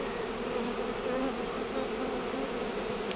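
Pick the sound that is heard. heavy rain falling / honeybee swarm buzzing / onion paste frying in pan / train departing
honeybee swarm buzzing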